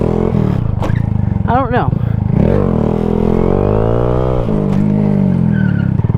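A motorcycle revs hard while lifting into a wheelie, engine pitch sweeping up and down with loud close throttle blips before easing off under braking, with a person talking over it.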